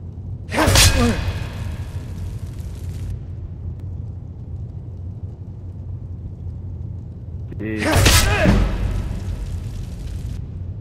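Two bursts of Skyrim fire spell flames whoosh and roar up loudly, each a sharp flaring blast followed by a sustained crackling hiss of a couple of seconds, separated by a quieter stretch of low background rumble.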